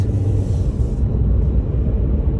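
Vehicles hurrying along a road on a foggy morning, a close, loud rumbling pass-by with deep low engine and tire noise that lingers steadily throughout.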